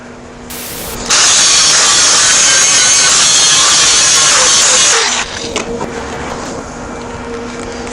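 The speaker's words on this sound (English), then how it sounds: "I'm going to put some marks on this other side so we can grind the paint on the other side." An angle grinder strips paint from a steel weld-on lockbox in a loud, steady four-second burst of harsh abrasive whine, then cuts off into a lower motor hum and faint clatter.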